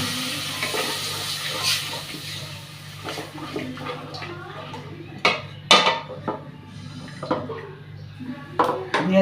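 Water is poured into turmeric, chili and coriander powder frying in a pan, followed by sharp clinks and scrapes of a utensil against metal and a steady sizzling hiss, with speech in between.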